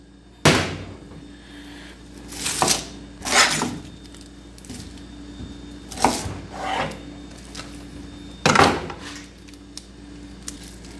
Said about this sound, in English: Nothing fancy, just packing some onions in some jars.